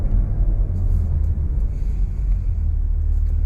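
Porsche Macan GTS driving, a steady deep engine and road rumble that stays loud and even throughout, with no talking.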